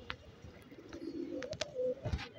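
A tumbler pigeon coos in a few soft, low bursts at close range, with faint chirps and light rustling around it and no speech.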